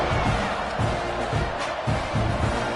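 Football stadium crowd at an Auburn versus Texas A&M game cheers ahead of a kickoff, a loud continuous roar with rhythmic bursts of shouting swelling across the stands.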